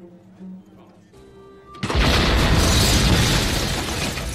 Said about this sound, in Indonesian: tiba-tiba terjadi ledakan yang sangat besar yang menghancurkan ruangan tersebut